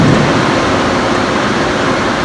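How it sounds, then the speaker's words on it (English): Car wash air dryers blow a loud, steady, broadband roar at close range with no pauses, and no talking. "We get a minute of dryer time."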